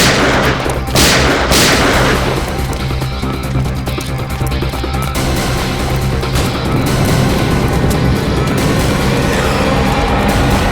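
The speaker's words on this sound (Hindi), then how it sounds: "ऊपर से सीआईडी के ऊपर फायरिंग" Gunfire roars through a shootout with CID officers, a dense, loud, continuous barrage of shots and booms layered with dramatic background sound.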